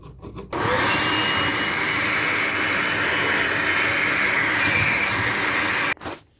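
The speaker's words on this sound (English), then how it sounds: "I'll use just a vacuum cleaner" A vacuum cleaner picks up crumbly plumber's putty around a bathtub stopper. It gives a loud, steady roar that starts abruptly, runs for about five seconds and then cuts off.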